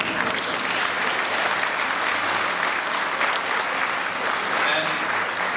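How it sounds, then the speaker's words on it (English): A banquet audience at an elder-care home's anniversary dinner applauds in a steady, dense wash of clapping that holds at an even level for several seconds. "Let's give them a big applause."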